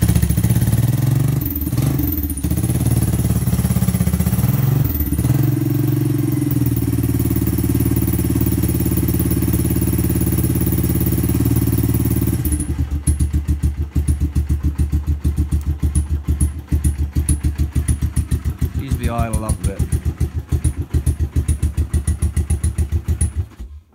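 A 1983 Honda ATC 200e Big Red three-wheeler runs loud and close, a steady low engine drone that shifts partway through into a rapid choppy idle putter with some clatter, no voices over it.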